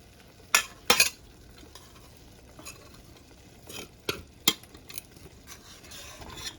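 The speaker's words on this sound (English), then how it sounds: "so I'm gonna put the rice in" Rice tipped into a white pot and stirred while cooking chicken biryani, heard as a few sharp scraping and clinking strokes of a utensil against the pot over a low background sizzle.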